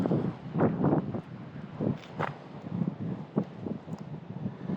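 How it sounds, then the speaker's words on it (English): Gusty wind buffets the microphone in irregular low rumbling bursts, loud and close, with no talking. "Everyone, I apologize for the wind."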